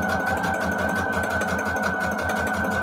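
A sewing machine runs steadily, straight-stitching around a paper embellishment, with a continuous rhythmic whir and fast regular needle pulses throughout, no talk.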